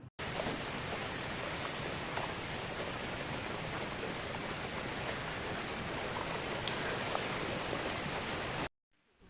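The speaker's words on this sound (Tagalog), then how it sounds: "umulan ulit sa mga saging" Steady rain pours onto banana plants outdoors, a dense even hiss with scattered drops that runs unbroken for most of the stretch and then cuts off abruptly near the end.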